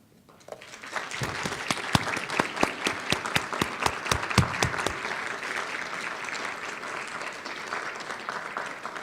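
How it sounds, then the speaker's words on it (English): Faculty and staff at a university commencement ceremony stand and applaud the graduates, a sustained wash of many clapping hands rising after a moment, with loud individual claps standing out near the front before settling into a steady, even roar. "we ask that the members of the faculty and staff please rise and applaud the"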